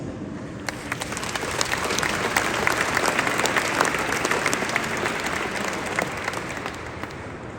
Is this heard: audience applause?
yes